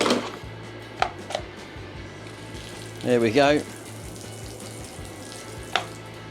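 Water runs from a tap through a garden hose into a V-TUF V7 pressure washer, a soft steady rush with a few clicks of the fittings and a short burst of speech midway.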